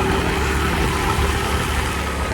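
A motorcycle engine runs steadily in a rural village, a constant low throaty drone with a rough texture, close and unbroken, with no voices over it.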